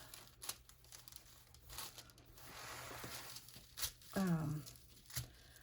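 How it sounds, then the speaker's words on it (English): Paper being torn by hand for a junk journal page, with crinkling and handling noises building to a brief close tearing rip near the end, quiet and with no talking. "Let's tear a piece."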